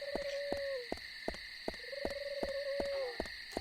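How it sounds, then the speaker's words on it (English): Owls hoot in the video game Deadly Premonition, sounding a few low, drawn-out calls over steady high ambient night insect tones. Regular sharp clicking thuds run through, quiet and without talk. "The owls agree."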